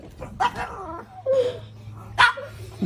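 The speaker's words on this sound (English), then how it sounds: "And the dog felt left out there." A dog barks and whimpers in short excited yips, several separate bursts over a low steady hum, fairly close and clear.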